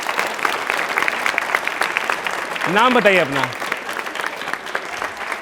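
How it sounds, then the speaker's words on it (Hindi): Applause from a studio audience on a Rajasthan TV quiz show, steady and moderately loud, with a host's voice speaking briefly over it. "आप एक बार तालियां बजा दीजिए हमके लिए"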